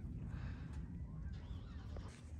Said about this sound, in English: Look at all those geese. Causing a ruckus.